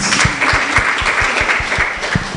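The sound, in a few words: audience applause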